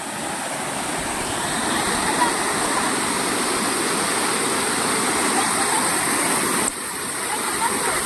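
A river flowing past at close range: a steady, dense rush of water that continues without pause, dipping slightly in level near the end.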